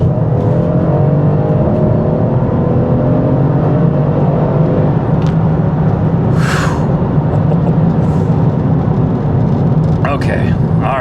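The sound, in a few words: 4MATIC all-wheel-drive car accelerating hard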